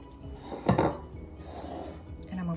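A utensil scrapes a cheeseball mixture out of a bowl, making a close, loud scrape with a sharp clink partway through and then a softer scraping drag afterward.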